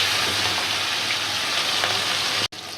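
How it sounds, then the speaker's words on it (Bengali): Chicken pieces frying in hot oil with a spice mixture in a wok, a dense, continuous close sizzle that stops briefly near the end. "মিশ্রণের মধ্যে মুরগি ভেজেলামও"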